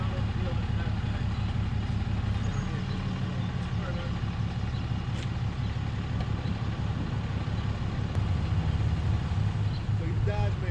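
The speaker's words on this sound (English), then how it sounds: "This tractor trailer's coming around." A tractor trailer truck maneuvers around a lot, its diesel engine idling and rumbling steadily and fairly close throughout, with low mechanical drone and occasional faint clanks in the background.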